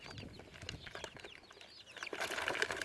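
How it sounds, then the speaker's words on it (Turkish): Young chicks about 45 days old, kept indoors in a cardboard box, give a dense flurry of high chirps and peeps close by, moderately loud and growing busier toward the end, with no talking. "Civcivlerimiz 45 gündür içeride kolinin içinde bakıyoruz."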